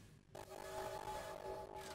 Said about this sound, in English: Train whistle.